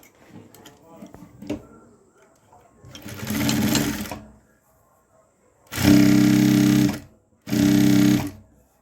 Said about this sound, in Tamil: நீங்கள் இழுத்துட்டு தான் தையல் போடணும்